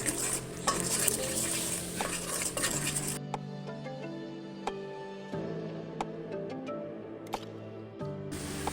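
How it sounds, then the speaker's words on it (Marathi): Chinese bhel being mixed with homemade schezwan chutney in a pan, producing steady close scraping and stirring with sharp metallic clinks of the spoon against the pan throughout, with no voices. "आता ह्याला आपण मिक्स करून घेऊया. चांगलं ह्याला आपण खमंग हे करून घेऊया, परतून घेऊया."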